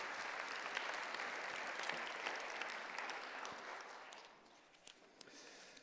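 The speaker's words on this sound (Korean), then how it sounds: "우리 큰 박수로 한번 환영하겠습니다" A church congregation applauds to welcome a guest preacher, with a sustained wash of clapping that holds steady and then thins out toward the end, leaving a few scattered claps.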